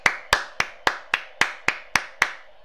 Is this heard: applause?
yes